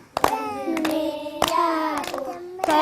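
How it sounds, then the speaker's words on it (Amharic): Several quick, sharp hand claps ring out close by in an uneven rhythm, alongside a voice speaking or chanting between them. "አጨብጭቡላት ጎበዝ ወንድሜ ያዕቆብ"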